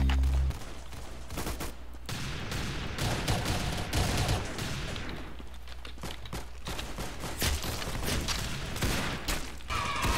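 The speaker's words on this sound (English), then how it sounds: "Very good shooting." Video game gunfire from an arsenal countdown timer event, rapid volleys and bursts of shots rolling almost continuously, loud and close, with heavy low booms underneath throughout.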